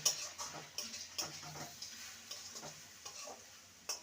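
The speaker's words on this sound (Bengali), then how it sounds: "এবার এগুলো দিয়ে দিলাম ভালো করে মিশিয়ে নেব" Crushed fried lentil dumplings (bori) being stirred into a vegetarian papaya curry, soft irregular scraping and light ticks of a spoon against the pan over a faint low sizzle, close and quiet.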